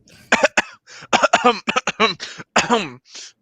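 A single person coughs in a rapid series of harsh, close bursts, several short hacks grouped in clusters over a few seconds.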